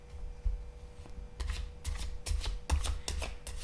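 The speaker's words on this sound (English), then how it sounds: "So let me just shuffle the cards" Tarot cards are shuffled softly in a series of quick riffling bursts, close and fairly quiet, with no talking.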